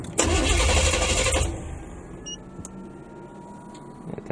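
A 1970 Impala's open-header 406 small-block V8 cranks on a cold start and catches with a harsh, roaring burst for about a second, then drops to a quieter, rough idle.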